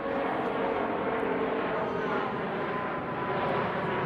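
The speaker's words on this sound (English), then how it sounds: "there's a plane. Yay! Man, it's a big plane." A large airplane flies overhead, producing a loud, steady broadband roar that holds for the whole stretch with no clear rise or fade.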